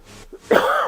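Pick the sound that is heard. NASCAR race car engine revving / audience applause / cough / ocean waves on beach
cough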